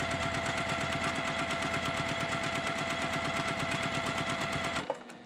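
A sewing machine stitching a quarter-inch quilt seam, a fast, even mechanical chatter running steadily for about five seconds before stopping with a small clunk.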